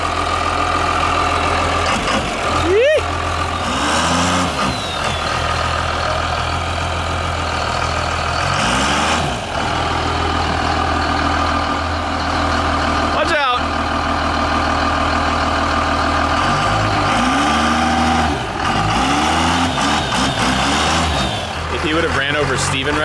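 A Plymouth Cuda engine idles loudly and continuously nearby, a deep steady rumble with a few brief revving swells, while people talk over it.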